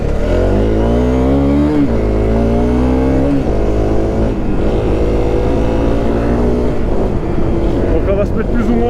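Motorcycle fitted with Pirelli XC Mid Hard tires accelerating to about 50 km/h, a loud close engine roar climbing through gears under a steady rumble, with no clear hard braking heard.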